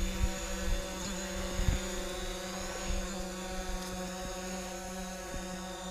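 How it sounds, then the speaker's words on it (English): A DJI Mavic Pro drone in flight gives off a steady whining, multi-toned propeller buzz, held at an even level with a few soft thumps beneath it and no talk. "and there's the drone."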